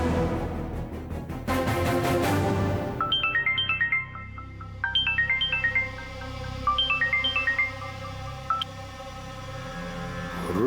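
A melodic phone ringtone plays in a TV drama scene after a call is placed, starting from a ringing burst and then repeating its tinkling tune several times at moderate volume.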